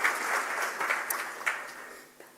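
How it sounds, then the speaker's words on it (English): Audience applause at a memorial lecture, a brief burst of steady clapping from a seated crowd that tapers off over about two seconds. "I think that requires a hand of applause."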